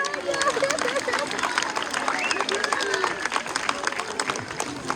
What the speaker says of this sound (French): Et on peut applaudir bien fort.